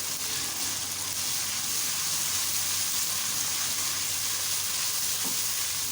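Garlic, ginger and green chili paste sizzling in hot oil with fried onions for a red bell pepper keema, a steady, even frying hiss throughout with no talk.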